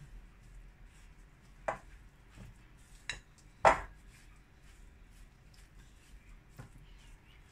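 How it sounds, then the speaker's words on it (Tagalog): A spoon clinks and scrapes in a bowl of grated cassava pancake batter, with a few sharp knocks against the rim among quieter stirring sounds at close range. "Mix natin uli."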